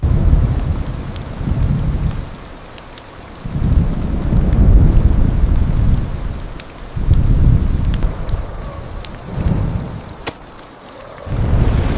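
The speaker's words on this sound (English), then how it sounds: "Thunder became less frequent. Rain softened from a deafening roar into a steady rhythm." Heavy rain pours steadily on an inflatable tent while deep rolls of thunder swell and fade several times, loud and enveloping.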